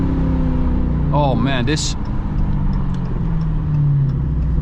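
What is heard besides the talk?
Dodge Hellcat supercharged V8 engine and exhaust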